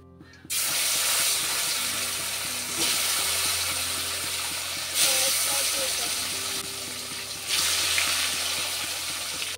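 Fish frying in hot oil in a thin wok, a loud, continuous close-up sizzle and hiss that swells in waves, with a voice talking over it.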